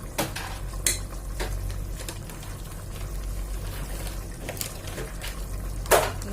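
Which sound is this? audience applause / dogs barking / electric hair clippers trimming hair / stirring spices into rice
stirring spices into rice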